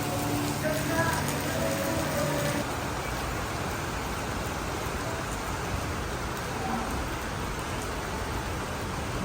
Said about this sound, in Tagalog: Napakalakas po ng ulan ngayon sa Malabon